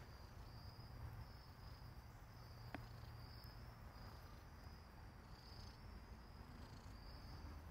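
A soft, steady purr runs continuously under a faint high insect-like hiss, quiet and close, with no talking.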